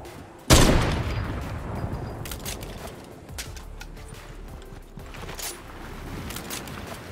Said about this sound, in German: Na, hier hinten schießt auch einer.